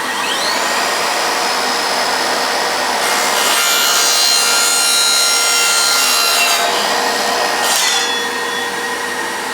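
An Evolution R185SMS-Li 18V cordless sliding mitre saw cuts through clamped 1.5 inch ABS pipe, its motor whining up to a loud, close, continuous rasping cut that runs for several seconds before winding down.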